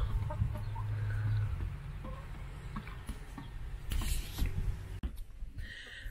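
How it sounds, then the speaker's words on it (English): Chickens cluck and murmur near a chicken coop at an allotment, a soft, quiet mix of calls and some rustling that continues through the clip. "I've just noticed that there's a cheeky little new chicken the other side of the chicken coop"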